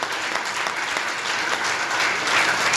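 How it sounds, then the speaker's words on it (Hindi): Audience applause at a music launch event, a steady, dense crowd clapping throughout, loud and sustained with no gaps. "एक बार कृष्णा के लिए जोरदार तालियां बजा दीजिए।"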